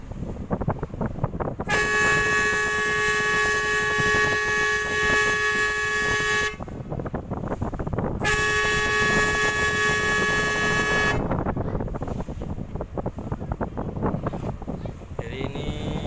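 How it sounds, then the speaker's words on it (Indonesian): A ship's horn blasts twice at a fishing boat blocking its path at sea, two long, loud, steady tones of about five and three seconds over constant wind and engine noise. "Di klakson dari tadi dia nggak mau minggir, menghalangi laju dari kapal"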